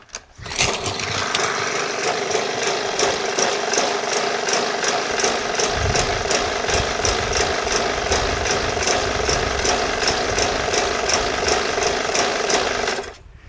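A Yard Machines MTD push lawn mower with a bent crankshaft runs loud and close, its small engine droning continuously with an uneven, surging and hesitating rhythm after being pulled to start.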